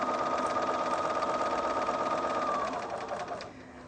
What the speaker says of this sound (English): you're using the normal stitch length for this piece of sewing